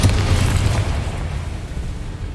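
A deep, booming blast from the Bombarda explosion spell in Hogwarts Legacy rumbles loudly right from the start, its low roar slowly fading away with no voices over it.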